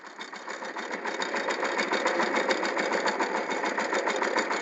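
A mini tractor, a Hathi model rigged as a power tiller for field work, runs with a fast, even, close-up chugging rhythm, its engine pulsing steadily throughout.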